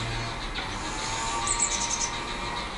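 Canaries chirp in a backyard aviary, faint high tweets scattered over a steady hiss of outdoor background noise.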